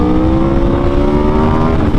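A 2022 Aprilia RSV4 1100 Factory motorcycle accelerating hard on the Pacific Coast Highway, a loud close engine howl with rising, sweeping tones and heavy wind buffeting, no talking.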